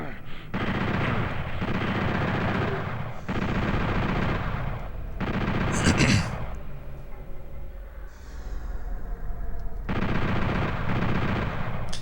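Rapid automatic fire from the chain gun in DOOM on the PS1, loud bursts of repeated shots broken by short pauses across the clip, with a brief sharper blast near the middle.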